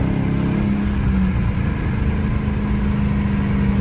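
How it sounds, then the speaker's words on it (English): A Dodge Charger on 245-width tires accelerates with its wheels spinning, a loud, steady engine drone holding close and constant throughout. "I'm not even flooring it, and we're just getting wheel spin."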